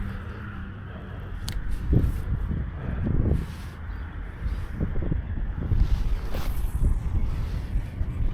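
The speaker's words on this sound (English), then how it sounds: "That wind at the back part of the lake just seems like it's blasting so much more than over here." Strong wind gusting over an open lake in Illinois, a steady roaring rush with heavy buffeting thumps against the microphone and surging blasts that rise and fall, no voices.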